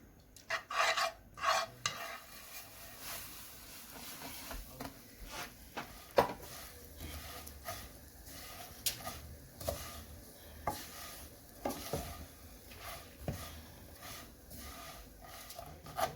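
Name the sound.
ghee cooking and stirring with vermicelli in a pan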